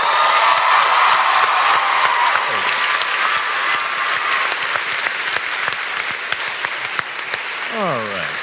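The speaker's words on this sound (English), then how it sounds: "Give it one more round of applause," A large convention audience at PAX West 2016 claps and cheers in a loud, sustained round of applause, dense and continuous, with voices calling out and whooping over it.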